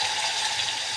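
Mustard seeds and whole cumin sizzle in hot oil in a kadai, a soft, even, continuous hiss with faint crackle, steady and close throughout.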